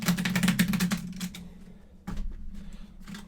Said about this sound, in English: I'm gonna shuffle these cards